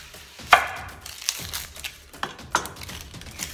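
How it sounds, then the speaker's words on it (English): A chef's knife slices an onion in half on a cutting board, one sharp crisp cut followed by a few softer taps and crinkles of onion skin, close and fairly quiet. "Then what I do is I cut the onion in half."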